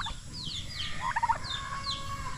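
A turkey on a backyard farm raised with chickens lets out a rapid rattling gobble, loud and near, amid scattered higher bird calls.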